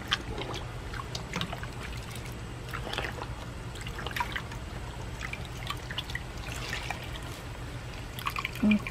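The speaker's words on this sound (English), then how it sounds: "We're gonna rinse all the leftover of the ink." Water trickles and drips steadily while ink is rinsed out of cross stitch fabric, a close, continuous splashing with small irregular drips and no talk.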